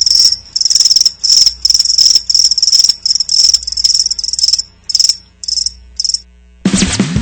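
Crickets chirp in rapid repeated bursts, loud and close, with short gaps between trills before a sudden burst of other sound at the end, at a Guelph Storm vs. Erie Otters hockey game.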